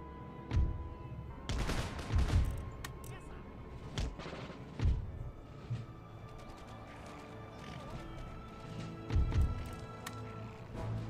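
Musket volleys and cannon fire in Empire: Total War, with scattered sharp cracks and booming bursts at irregular intervals over a low battlefield din, moderately distant.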